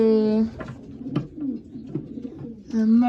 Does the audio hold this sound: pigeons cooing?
yes